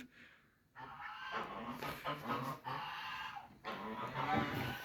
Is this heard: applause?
no